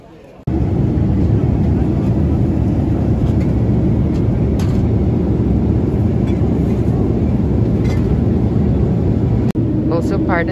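Loud, steady low roar of an airliner cabin in flight on a long-haul trip. It cuts in abruptly after half a second and drones on evenly, with a brief dropout near the end.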